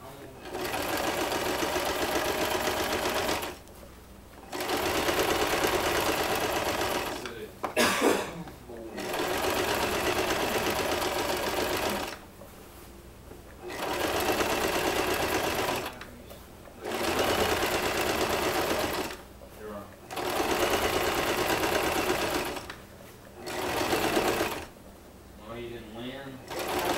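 A sewing machine top stitches the seams of a fishtail skirt in repeated steady whirring bursts of several seconds each, separated by brief pauses, close and loud.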